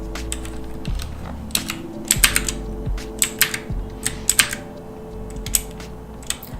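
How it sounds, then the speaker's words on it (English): Close-miked typing on a computer keyboard at a game developer's desk, a loose run of irregular key clacks with a few sharper, heavier strikes, and no speech. "Is your keyboard sound also going to be included in the game soundtrack?"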